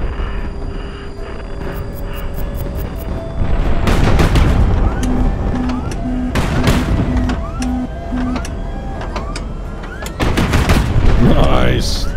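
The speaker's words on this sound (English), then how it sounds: "Nice! That explosion!" Explosions and missile fire in the naval combat game HighFleet, with repeated booming blasts, a steady pulsing tone and layered gunfire-like bursts, loud and continuous, a voice speaking partly over the action.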